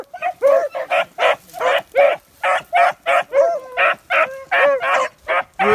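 Hunting dogs on a Georgia rabbit hunt bay and bark in a steady, rapid series of loud, close yelps and bawls, one after another for several seconds, with no talk in between.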